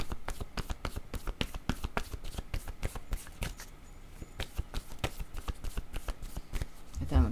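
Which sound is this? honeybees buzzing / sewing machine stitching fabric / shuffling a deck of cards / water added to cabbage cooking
shuffling a deck of cards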